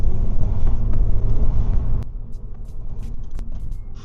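A 25-year-old Audi TT 225 with 170,000 miles on it roars under acceleration on the road, its engine loud and close, then drops suddenly to a quieter rumble with a sharp click and light whooshes.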